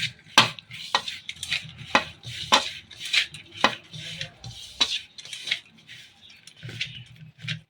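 Chili powder, turmeric and vinegar stirred together in a metal vessel, a close series of irregular scraping clinks and taps of a spoon against the pot, with no talking.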